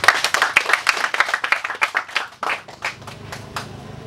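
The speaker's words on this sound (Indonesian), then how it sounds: "Untuk itu kita aplaus kembali." An audience at a student association's installation ceremony for new officers claps in a dense burst of applause that thins into scattered, slower claps over a few seconds, close and lively.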